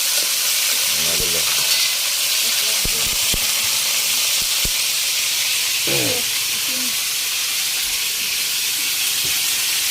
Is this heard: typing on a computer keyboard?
no